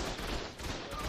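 Sustained enemy gunfire in the game Ark, a dense, continuous rattle of rapid shots that sounds muffled and fairly quiet throughout.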